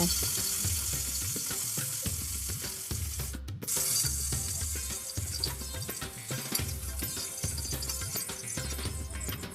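Snakehead fish heads fry in oil with a steady sizzle, accompanied by rhythmic scraping and stirring knocks near the pan and a brief louder clatter partway through.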